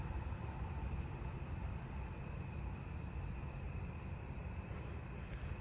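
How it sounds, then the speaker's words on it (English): Forest scaly crickets chirp in a neighbourhood night chorus of constant high trills, blended with other insects and faint frog-like calls, steady and moderately quiet. "There's the forest scaly crickets."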